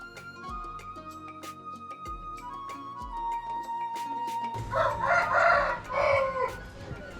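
Chickens at a chicken shop in a floating village in Brunei cluck and squawk close by, first as scattered calls over a sustained tonal background, then in a louder, busier burst of clucking near the end.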